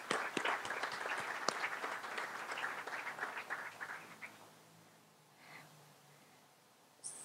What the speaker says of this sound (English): So please, everyone give each other a round of applause.